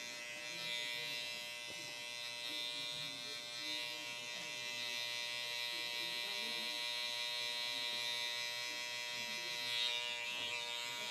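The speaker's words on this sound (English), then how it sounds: "if you want to just do some cleanup work with your liners, it's okay to do that" Electric hair liner trimmer buzzing steadily during a fade haircut, a continuous high-pitched hum held close and fairly quiet throughout.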